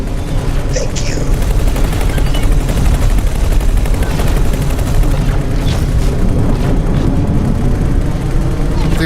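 Dense, continuous gunfire and explosions fill a space battle in the game X4, a loud, unbroken barrage with low rumbling booms, while voices talk over it.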